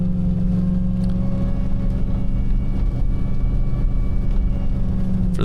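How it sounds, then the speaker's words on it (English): A converted 4x4 Jeep with a supercharged Hemi out of a Dodge Demon drives over an off-road mountain trail, its engine a loud, constant low rumble close by. "the truck, why it's making all that noise, this is a America's Most Wanted 4x4 converted Jeep, and I have a supercharged Hemi out of a Dodge Demon in here"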